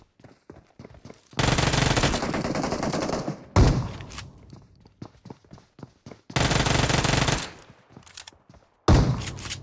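Automatic weapons fire in a PUBG Mobile gunfight, with two long sustained bursts and several shorter ones, loud and close, broken by gaps holding single sharp shots and footstep-like clicks.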